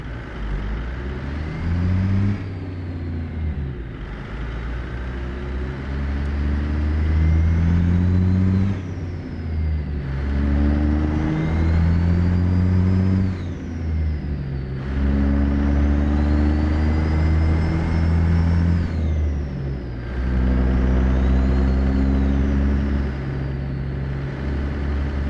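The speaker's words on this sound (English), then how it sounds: "This little Mack truck is pretty sweet too in its own right" Mack truck engine in American Truck Simulator, a deep diesel drone rising and falling through repeated gear changes and revs, loud and steady with no talk.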